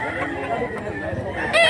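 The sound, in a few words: rooster crowing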